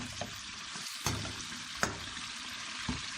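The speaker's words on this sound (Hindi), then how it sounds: "इसको हम फ्राई कर लेंगे।" Meat frying for a gosht dish, a constant hissing sizzle close by with a few brief knocks of a spoon against the pan, steady and moderately loud, no talk.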